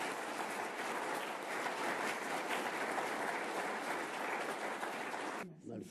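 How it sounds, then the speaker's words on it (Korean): Renewed, louder applause from the audience at a Cheongpyeong hoondokhae gathering as True Parents are welcomed again, a thick steady wash of clapping that cuts off sharply near the end. "다시 한번 더 큰 힘찬 박수로 부모님 모시겠습니다."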